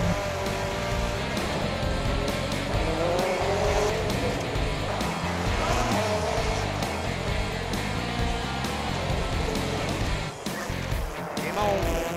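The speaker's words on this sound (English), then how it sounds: "Look at him slide that car." A rally car at the X Games slides through a corner with a loud, sustained engine roar and squealing tires, under excited commentators talking throughout.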